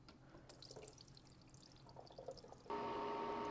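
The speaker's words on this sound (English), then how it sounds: "I am going to open that up and let the water out." Water drains from the bottom drain of a Kndko nugget ice maker, first as faint drips and trickles, then as a steady pouring stream that starts abruptly and stays even.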